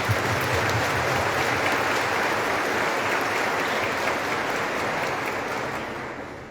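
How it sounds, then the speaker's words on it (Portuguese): A church congregation at a Sunday Mass in a São Paulo sanctuary applauds to welcome a visiting parish group, a dense, steady round of clapping filling the hall before fading slightly at the end. "vamos acolhê-los com a salva de palmas"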